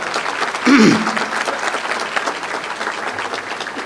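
An audience at an economy address claps in steady, sustained applause that swells briefly near the start, then carries on evenly at a moderate level.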